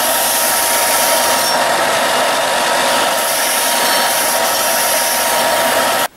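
Continuous, loud powered grinding as a Rockaway axe head's edge is sharpened back to a convex bevel, a steady broadband whir that cuts off abruptly at the end.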